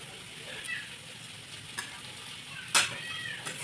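Food frying in a pan with turmeric and salt is stirred, giving a faint, steady sizzle broken by a few sharp scrapes and clinks of the utensil against the pan.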